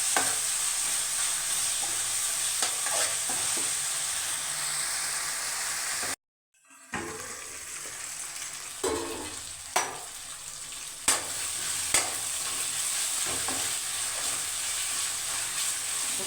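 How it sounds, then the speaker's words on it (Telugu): Ginger paste frying and being stirred in a pan for a sea snail and drumstick masala curry, a steady soft sizzle with occasional louder scrapes of the spoon, no talk over it. "అల్లం పేస్ట్ పచ్చి వాసన పోయినాక కాసేపు మగ్గబెట్టాము."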